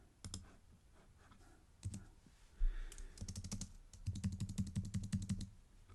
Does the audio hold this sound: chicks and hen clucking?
no